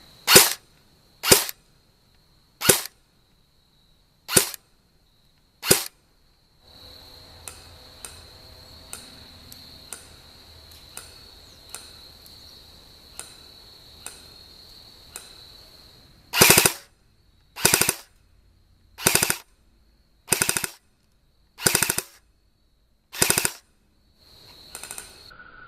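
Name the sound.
Echo1 USA Troy MRF-S airsoft rifle firing semi-auto then full-auto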